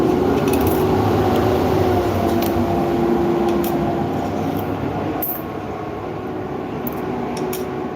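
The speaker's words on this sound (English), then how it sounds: "we got the trash truck coming through here." Heavy engine rumble of a garbage truck idling and moving past, steady and loud with a faint whine and occasional clanks, fading slightly at the end.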